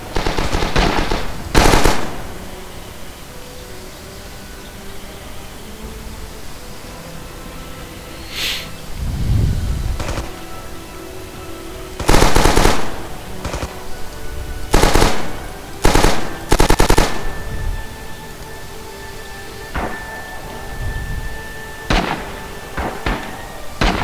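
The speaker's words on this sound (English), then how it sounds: "Let's get on that MG over here." Machine gun fire in the Rising Storm video game, loud bursts of rapid shots scattered across the stretch with quieter gaps of ambient battlefield noise between them.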